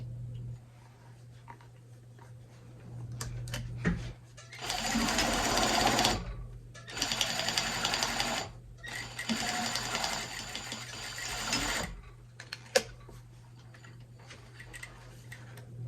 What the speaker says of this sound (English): I'm just going to sew this down right to the very edge